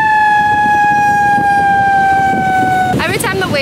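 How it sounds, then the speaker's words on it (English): Warning sirens wail steadily at a windy beach, two loud sustained tones that slowly drop in pitch, then a warbling rise-and-fall siren pattern, all over constant wind and surf noise. "Also, the sirens are going off."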